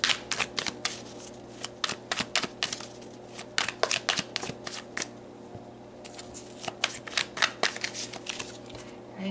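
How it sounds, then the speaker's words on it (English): Tarot cards are shuffled by hand in quick bursts of crisp riffling clicks, with short pauses between, close and fairly quiet, with no voices. "give these a good shuffle for you guys"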